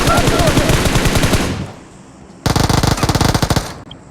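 Gunfire rattles through a firefight in a video game: long rapid automatic bursts, a short lull, then another dense volley of shots, all loud and close.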